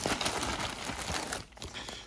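Plastic packaging from a TEMU parcel of fishing gear is crumpled and crinkled up close, a dense, continuous rustle with a brief dip before resuming, with no talking.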